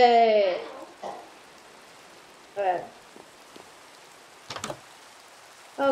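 Soft, steady rain in Minecraft patters in the background while a voice talks intermittently over it, with a few clicks and thuds.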